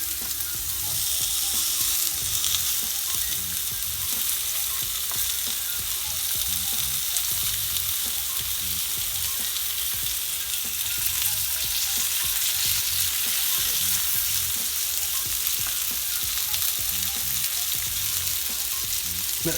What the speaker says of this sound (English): So then mix the garlic in, making sure that it goes on all of the lamb chops